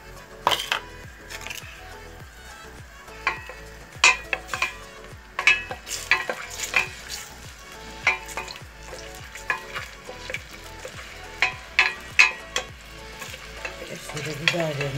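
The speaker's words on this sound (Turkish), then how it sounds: "Bir çay bardağı zeytinyağımı tencereme koydum. Sıra geldi biberlerimi koymaya." Peppers sauté in olive oil in a pot, giving a steady sizzle with repeated sharp scraping and clinking strokes as the spoon stirs, close and fairly loud, without any speech.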